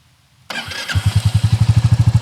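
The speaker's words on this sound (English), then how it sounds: "the last step of the installation process is to start the engine" A Royal Enfield Meteor 350 motorcycle fitted with a DNA air filter cranks and fires after a brief starter whir, then settles into a close, loud, steady thumping idle with an even pulse.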